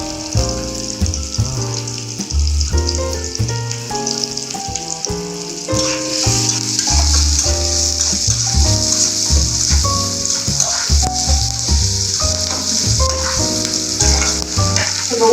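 Chopped onions and green chillies frying in a pan give a steady hissing sizzle that runs beneath prominent background music throughout.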